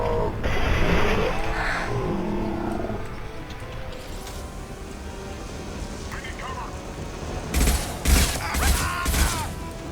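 Gunfire in Mass Effect 2 amid heavy game combat noise, with a sustained rumbling roar followed by a few loud, sharp bursts near the end. A voice is heard speaking.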